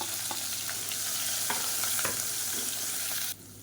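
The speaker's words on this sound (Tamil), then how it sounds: "இப்போ வெங்காயம் ஓரளவுக்கு நல்லா வதங்க ஆரம்பிச்சிருச்சு." Chopped onions sauté in oil with green chilies, curry leaves and ginger-garlic paste, a steady close sizzle broken by a few stirring scrapes, which fades abruptly at the end.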